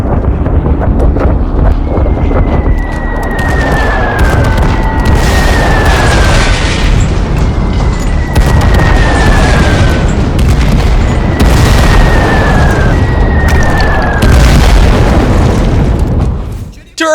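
Cartoon bombs whistle down and burst in the Japanese attack on Pearl Harbor: a series of about five falling whistles, each ending in a loud boom, over heavy rumble and wind, with voices speaking across it.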